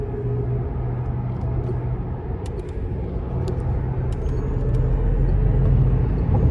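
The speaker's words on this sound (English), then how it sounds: "I'm putting it in the Swift Sprint mode now, and we're gonna take it on the interstate" Lucid Air Pure electric sedan accelerating hard onto an interstate in Swift Sprint mode, a steady loud road and drivetrain rumble that swells gradually over several seconds, no talking.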